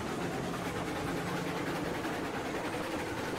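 A train rolls forward in a video game with a steady, loud, unbroken rumble of wheels and engine, with no distinct clacks or pauses, close and constant for a few seconds.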